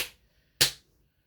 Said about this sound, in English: Then Rabbit thumped her foot on the ground 4 times.